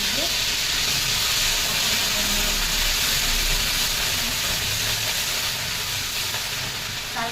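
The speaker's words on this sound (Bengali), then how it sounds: "পেঁয়াজ বাটাটা দিয়ে দিলাম হালকা করে ভেজে নেবো" Onion paste frying lightly in a pan, heard as a steady, loud hiss and sizzle that holds unbroken throughout, close by and with no talk over it.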